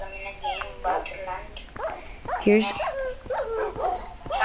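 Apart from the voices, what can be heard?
dogs barking and whimpering in video game Minecraft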